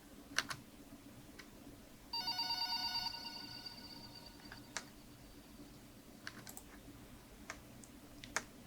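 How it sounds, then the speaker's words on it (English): A faint electronic phone ring, part of a music track, trills for about a second amid soft clicks and taps over a quiet low hum. "there's just this one part in the second verse where it's just a phone ringing"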